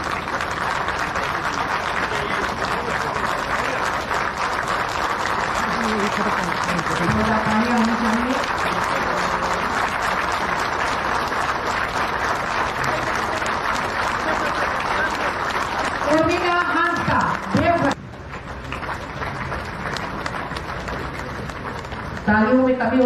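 An audience at a Jharkhand government event claps in sustained, dense applause, loud and continuous, while a voice speaks over a loudspeaker toward the end.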